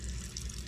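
Water gushes steadily from a bath pourer in a home on well water, a brief, close, constant rushing stream.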